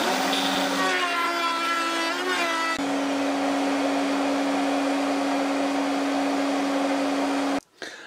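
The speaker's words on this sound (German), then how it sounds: "habe ich mir jetzt hier einen Abrundfräser drauf gemacht und mache die untere Kante schön rund" A router fitted with a round-over bit cuts along the lower edge of a workbench, a loud steady motor whine with a shifting tone for several seconds before it stops abruptly at the end.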